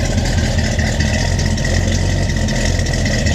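A 1968 Ford Galaxie XL Fastback idles through custom bent MagnaFlow exhausts, giving a steady, close, continuous low rumble with no speech over it.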